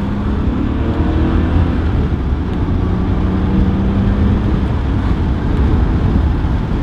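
A 1995 Porsche 911 (993) Carrera 4 with all-wheel drive takes a sharp corner, its engine a steady low drone heard from inside under wind rumble, with no voices.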